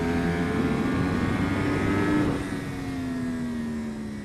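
A racing motorcycle engine on the Thunderhill track pulls steadily at high revs, then eases off with a falling pitch. It is close and loud, with no voices.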